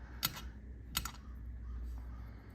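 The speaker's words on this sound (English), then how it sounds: "I'm gonna dice this one up" A blade chops down through polymer clay on a work surface, two crisp taps close to the mic followed by quieter scraping, with no talking.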